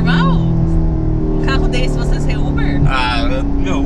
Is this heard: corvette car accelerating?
yes